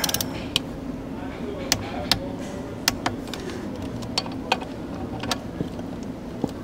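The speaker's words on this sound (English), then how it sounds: "So let's torque this thing down." A bolt is torqued down on a 2024 Kia Sportage, a series of sharp, evenly spaced ratchet clicks and creaks close by over a low background hum.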